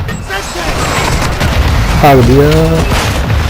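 A grenade explosion in Call of Duty: Modern Warfare 2 (2022) bursts loudly amid dense gameplay noise, with a voice speaking briefly over the din.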